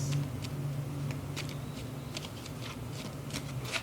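Tarot cards are shuffled steadily by hand, a continuous soft papery riffling with light flicks, close and moderate in level under a low background hum, with no talking.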